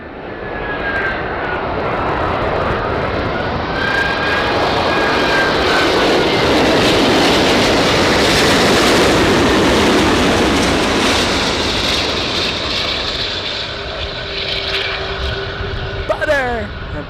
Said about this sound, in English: Butter touchdown there by the A380 Super.